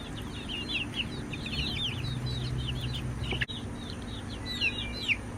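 Young chickens give faint, high chirps and soft clucks in the evening, a quiet scattered chatter over low background noise.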